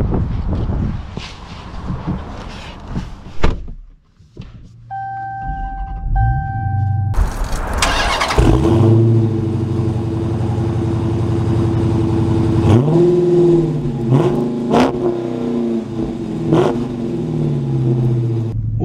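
Dodge Challenger Scat Pack widebody with a manual gearbox being driven, its engine revving up and down through several loud rising pulls, with a short chime and wind noise mixed in.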